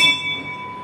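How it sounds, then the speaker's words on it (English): A bell rings once at a polo match, a bright metallic strike with sustained ringing tones that slowly decay over a soft background murmur. "There goes the bell."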